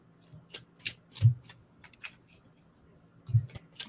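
Tarot cards riffle and slap together in short, scattered bursts of papery flicking, close up in a quiet room.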